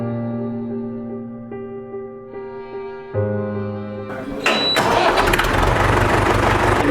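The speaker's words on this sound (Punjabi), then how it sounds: "ਮਾਰ ਸੈਲਫ ਟਰੈਕਟਰ ਦੀ" A tractor's self-starter cranks briefly before the engine catches and settles into a loud, rough idle, with no speech over it.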